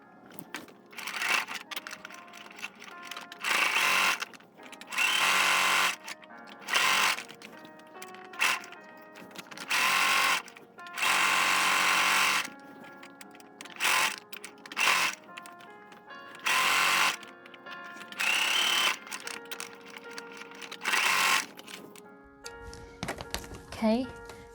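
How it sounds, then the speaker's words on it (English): A sewing machine stitches a fabric face mask with an American flag print, running in repeated loud bursts separated by short pauses, close up, with a few clicks and handling sounds between runs. "let's head to our sewing machine"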